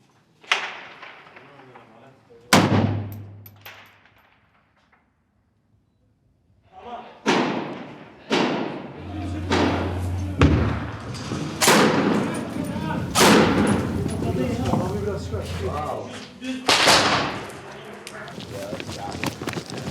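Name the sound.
gunfire during street fighting in Raqqa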